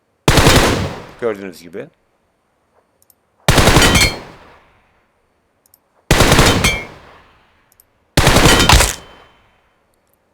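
Automatic gunfire in the video game PUBG comes in four loud, close bursts of rapid fire separated by short pauses, each ending in a decaying echo, with someone speaking briefly after the first burst.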